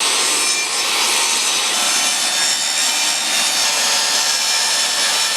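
A table saw rips through a wooden board from a Home Depot, a loud continuous whining, hissing cut that holds steady from start to finish with no pauses or voices.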